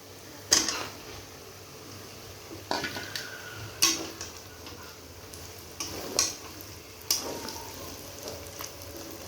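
Mutton goes into spices frying in a pan, with a low steady sizzle under several sharp metallic scrapes and clanks of a spoon against the pan, spaced a second or two apart.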